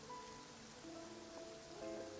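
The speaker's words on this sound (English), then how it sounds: "I can still hear the rain." Rain falls steadily in the Genshin Impact game world, a soft continuous patter, with faint tonal music or ambient notes drifting over it and no speech.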